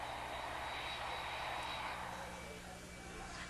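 Steady broadband roar of a passenger airplane's jet engines, a continuous wash of sound with a faint high whine on top, holding level throughout with no voices.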